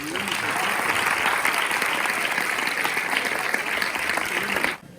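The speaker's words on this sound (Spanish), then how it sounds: "Un aplauso." An audience at an open stage theatre event applauds in a dense, sustained wave of clapping that carries on steadily before cutting off near the end, with faint voices mixed in.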